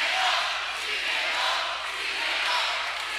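Chanting from a basketball crowd during a high school game, a steady dense roar of many voices, loud and continuous with rising and falling swells.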